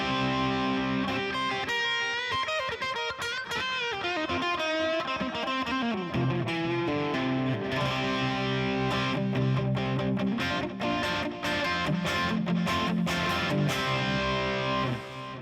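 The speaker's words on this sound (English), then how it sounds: "I love a good overdrive pedal into a clean amp." Overdriven electric guitar played through an overdrive pedal into a clean amp, with sustained chords, sliding notes and single-note runs ringing out continuously and steadily loud, with no voices over it.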